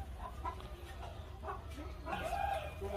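Chickens clucking and squawking in an agitated flock at a navy camp, where a large python is caught in netting, heard over a low steady rumble and background noise.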